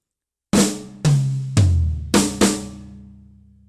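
Drum fill on an acoustic kit: a flammed snare hit, a higher tom, a deeper floor tom, then two quick snare strokes. Five sharp, close hits, each left to ring out, with no other sound.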